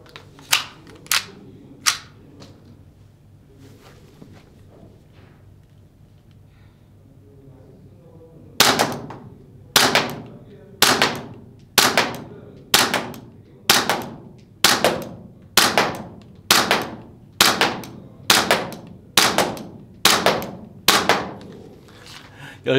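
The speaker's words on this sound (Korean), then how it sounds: "가스를 넣고 어, 테스트 사격 해보도록 하겠습니다." A Tokyo Marui Glock 17 Gen5 MOS gas airsoft pistol fires at a target about 15 m away: a few sharp cracks first, then after a pause a steady run of about fourteen loud, evenly spaced shots close to the listener.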